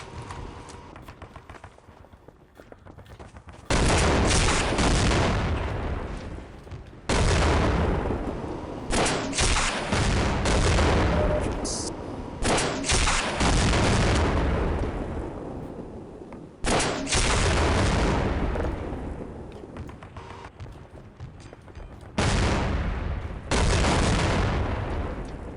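RPG rocket launcher fire and explosions in the Half-Life game: repeated loud, broadband blasts and crackling bursts with short gaps between them, dense and close.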